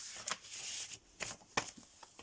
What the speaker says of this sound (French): alors je remets dans l'enveloppe